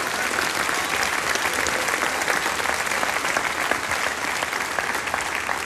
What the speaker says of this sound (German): für den Wolperdinger auch einen Applaus